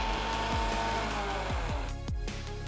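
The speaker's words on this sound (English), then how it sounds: "close the jar with a lid and grind it all again" A mixer grinder jar grinds garlic, dried chilli and curry leaves into spice powder, giving a steady, loud whirring motor drone with rattling and periodic thumps as the mix tumbles inside the closed jar.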